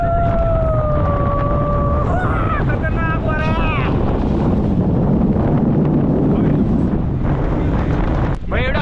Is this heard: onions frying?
no